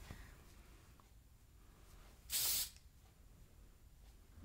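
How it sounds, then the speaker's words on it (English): A light aerosol hairspray is sprayed onto a Raquel Welch wig in one short, sharp hiss lasting about half a second. It stands out clearly against an otherwise quiet room. "This is a very, very light aerosol, I must say."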